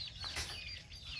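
Faint, brief clucking of chickens on a rural farm, a couple of soft calls over quiet background noise, with a light rustle like flapping wings.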